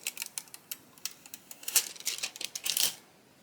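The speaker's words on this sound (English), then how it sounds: "now I'm removing the tape on the faux rhinestones" Tape being peeled in quick crinkly pulls off faux rhinestones on a freshly pressed sublimation mug, a run of short sticky rips building to a longer tearing stretch near the end, close and fairly quiet.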